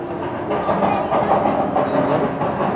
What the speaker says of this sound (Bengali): আর এই টয় ট্রেনের আওয়াজ শুনতে পাচ্ছি।